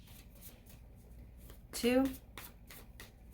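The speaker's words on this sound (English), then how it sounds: "So vibration, Virgo's vibration, please, in 5 shuffles." Tarot cards being shuffled by hand, a single quick riffling burst in the middle of a short stretch, close and crisp, while someone speaks over it and counts.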